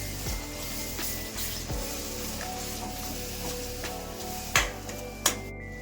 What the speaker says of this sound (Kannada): 2 ಟೊಮೊಟೊ ಪ್ಯೂರಿ ಮಾಡಿಕೊಂಡಿದ್ದೀನಿ, ಅದನ್ನು ಹಾಕೊತಾ ಇದ್ದೀನಿ. ಒಂದ್ಸರಿ ಮಿಕ್ಸ್ ಮಾಡ್ಕೊಳ್ಳೋಣ.